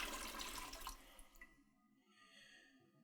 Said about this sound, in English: we're going to put like 3 to 4 cups of water in here